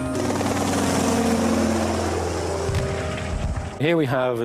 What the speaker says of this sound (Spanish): Este es el típico motor de pistón de los años 40 y 50